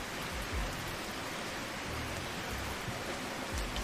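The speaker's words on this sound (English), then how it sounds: "that rain is really loud" Steady, dense rain hiss from the Placid Plastic Duck Simulator video game, a loud, even downpour wash with no pauses and no voices.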